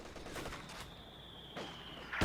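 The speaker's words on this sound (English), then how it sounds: "that mortar, which just calmly is just lofting rounds like crazy" Mortar fire in the Company of Heroes 2 battlefield, with a dense rattle of distant gunfire and explosions, a thin high whistle of incoming rounds, and a louder impact at the very end.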